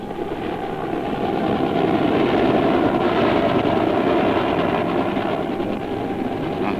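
A U.S. Coast Guard helicopter roars loudly and continuously nearby at sea while towing a boat, its rotor and engine noise steady throughout.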